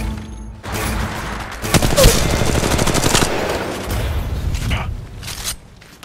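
Gunfire in a shooter video game: a rapid burst of loud automatic shots, a dense crackling volley that starts abruptly, holds for a few seconds, then trails off into quieter game sounds.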